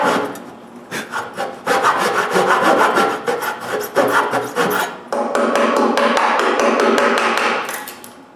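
A handsaw cuts a wooden tail joint, a rhythmic series of close, rasping back-and-forth strokes on wood that pause briefly and then resume.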